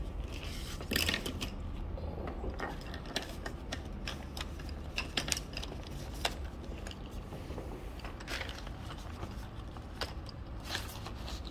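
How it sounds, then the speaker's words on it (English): A pencil is turned in a sharpener, giving a run of dry ticking, grinding scrapes at close range that continue unevenly throughout, with no talk over them. "let me just sharpen my pencil"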